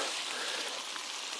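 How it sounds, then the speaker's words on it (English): Breakfast sizzles and fries in a pan at a wild campsite, a steady close crackle with no voices over it. "that sizzling away. That's going to be breakfast."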